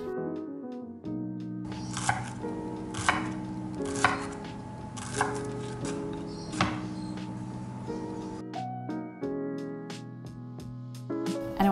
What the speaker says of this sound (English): Now we want to go in with some shallots. Okay, so this just needs to be roughly chopped.